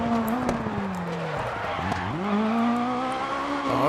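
Peugeot 306 Maxi rally car in Dirt Rally skids under the handbrake, tires squealing in a rising and falling screech over a loud, revving engine, with no talk.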